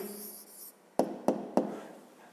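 Pen strokes on notebook paper while a math answer is written down, three short sharp scratches in quick succession after a faint opening rustle, close and quiet.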